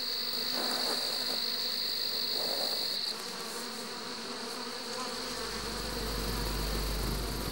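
Bees at a hive entrance, where a death's head moth raids the honeycombs, make a dense, steady buzz throughout. A sustained drone holds alone with no voices, shifting in tone partway through as a low rumble rises near the end.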